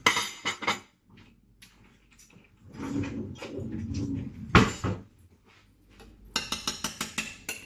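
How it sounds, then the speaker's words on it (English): Kitchen utensils clink and rattle as a ladle is fetched while making a sausage casserole in a slow cooker: scattered metallic clatter, rummaging and a sharp knock, then a quick run of light clinks, close by. "Let me go and get a ladle."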